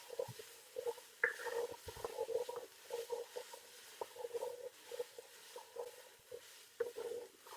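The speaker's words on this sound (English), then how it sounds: "And then mix in onions and celery." Onions and celery stirred into a hot frying pan for beef steak chilli con carne, with a soft, steady sizzle and bursts of scraping and stirring close by, fairly quiet, no voices.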